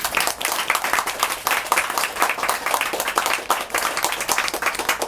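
A crowd at an evening gathering claps in a steady round of applause, dense and fairly close, sustained for the whole few seconds.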